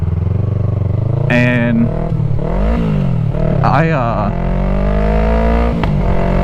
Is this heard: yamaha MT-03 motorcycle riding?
yes